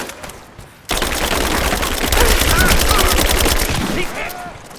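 Loud, rapid machine-gun fire in Rise of the Tomb Raider erupts suddenly and sustains as a dense, continuous rattle for several seconds, close and dominant, with faint voices briefly audible beneath it.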